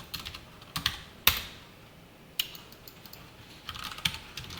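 Keys tapped on a computer keyboard while writing HTML and CSS code, with a few scattered, crisp clicks and short clusters separated by quiet pauses, close and alone.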